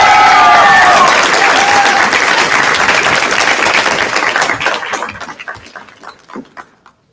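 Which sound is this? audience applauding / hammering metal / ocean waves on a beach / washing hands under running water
audience applauding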